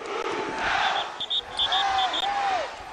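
A college football stadium crowd at a Georgia Southern blue-out game against Appalachian State roars and chants, with rising whistles and whoops over a dense wall of cheering.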